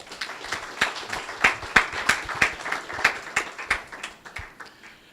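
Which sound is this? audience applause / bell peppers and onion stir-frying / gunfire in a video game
audience applause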